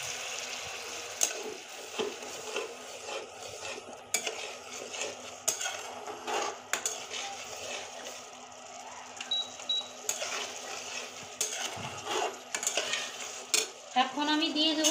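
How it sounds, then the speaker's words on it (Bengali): Masala for an eggplant gravy sizzles in a pan after a little water goes in, with a steady hiss of frying and repeated scraping clinks of a spoon stirring against the metal pan, fairly close. "এখন আমি সামান্য পরিমাণ জল দিয়ে দেব গ্রেভি করার জন্য"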